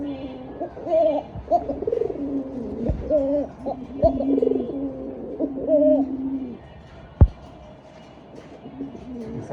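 A male pigeon cocks repeatedly in rhythmic, throaty cooing phrases, close and clear, the calls coming in several bursts and then pausing, with a single sharp knock near the end.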